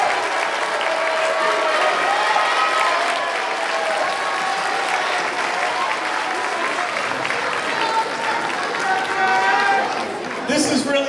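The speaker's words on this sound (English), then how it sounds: "Round of applause for all of these beautiful children who we have with us here tonight." An audience applauds the children of a school district at an evening community gathering, sustained loud clapping with cheering voices mixed in throughout, tapering slightly near the end.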